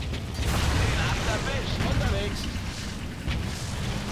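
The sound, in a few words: artillery fire in the video game Blitzkrieg 3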